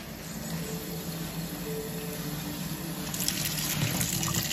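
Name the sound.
water filling a cup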